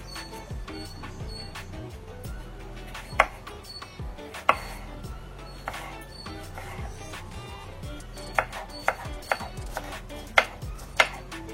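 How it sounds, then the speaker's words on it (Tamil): Knife chopping peeled cucumber into small pieces on a board: a steady run of soft, close, sharp taps with occasional louder knocks against the board. "தோலை நீக்கிட்டு குட்டி குட்டியாக நம்ம கட் பண்ணி எடுத்துட்டு வந்துடுவோம்."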